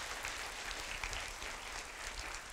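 A seminar audience at a motivational coaching talk applauds, producing a dense, even patter of many hands clapping that holds steady throughout at moderate distance.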